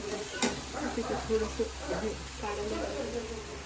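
Sambar (coriander) leaves are sautéed in a pan, making a low sizzle with a few stirring scrapes, partly masked by women chatting over it.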